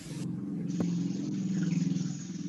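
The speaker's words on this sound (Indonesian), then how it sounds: "kalau suara motor kan enggak apa-apa" Motorbike engine rumbling steadily in the background of an online class call, with a low droning hum and a brief click partway through.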